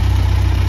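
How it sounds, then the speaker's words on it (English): A 2016 Kawasaki Versys 1000 LT with an inline four-cylinder engine idles nearby, a steady, even low hum with a fine regular pulse and no voices. "Inline four-cylinder engine runs perfectly."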